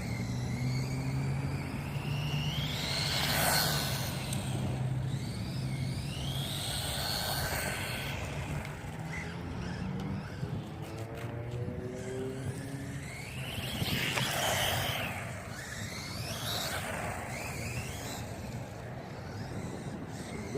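A ZD Racing BX-16 brushless RC car drives around, its electric motor whining and rising in repeated high-pitched sweeps as it speeds up and passes, over a steady rumbling background.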